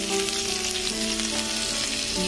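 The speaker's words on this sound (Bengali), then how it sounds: "কড়াইয়ে তেল দিয়ে দিয়েছি। এবার দেব রসুন কুচি" Chopped garlic sizzles and fries in hot oil in a kadai-style wok, a steady close crackle running throughout without pause.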